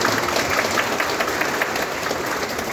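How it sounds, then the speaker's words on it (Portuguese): Applause from the audience in a municipal chamber after a newly elected mayor's speech, dense continuous clapping heard at moderate distance without talk. "Peço uma grande salva de palmas para o Dr."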